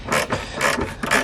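Irwin bolt grip socket on a ratchet turning a tight bolt on a Ford Fiesta, a few loud, close ratcheting clicks in quick uneven bursts.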